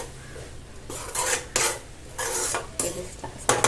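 Cabbage is stir-fried in a pan, with a spatula scraping and stirring in a series of short, fairly loud strokes over a quiet background.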